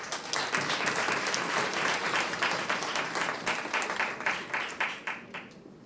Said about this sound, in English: Yes, please applaud them.